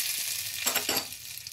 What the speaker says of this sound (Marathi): ही फोडणी त्यात घालायची